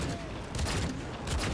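Rapid gunfire from the RT-46 Burya in the video game Cyberpunk 2077, four shots fired one after another, loud, sharp and booming, with a busy game soundscape behind them.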